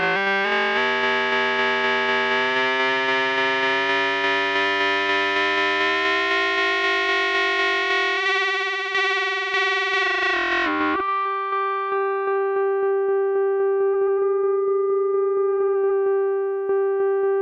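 FM synthesis on an Arturia MicroFreak with LFO modulation: a buzzy, distorted sustained tone whose harmonics sweep and shift for about ten seconds, then a thinner, steady tone pulsing in rapid repeated ticks, all alone.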